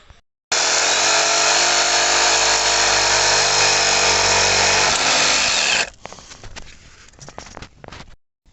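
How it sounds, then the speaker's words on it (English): Reciprocating saw cutting the tip off a nut on a Ford Mondeo 2.0 TDCi, giving a loud, continuous high-pitched buzzing whine for about five seconds that stops abruptly, followed by light clattering. "use either a reciprocating saw and cut the tip off so we can get a proper socket on there"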